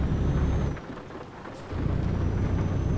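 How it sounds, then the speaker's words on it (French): Steady rain and rumbling thunder from a storm in Euro Truck Simulator 2 fill the scene with constant wash, dipping briefly before returning at full strength, with no voices. "Il pleut, il y a de l'orage et il y a du brouillard."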